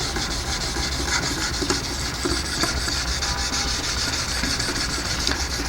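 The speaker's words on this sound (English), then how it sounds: "we're going to do some scrubbing till we get a burr on the left-hand side of the knife" A knife is scrubbed with up-and-down strokes against sharpening stones on a Wicked Edge sharpener, a steady rasping grind with quick repeated strokes and no talk.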